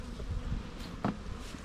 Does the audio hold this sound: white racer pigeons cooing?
no